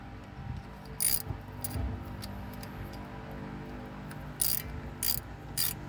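A ratchet snugging the rear differential cover bolts on a 1993 Ford F250, several short bursts of rapid clicking spaced through the clip, close and clear over a low background hum.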